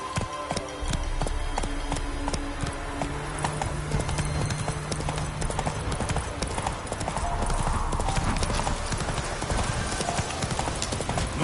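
Roach, a horse in The Witcher, gallops with fast, steady clip-clop hoofbeats that stay loud and close throughout, with a brief low tone partway through.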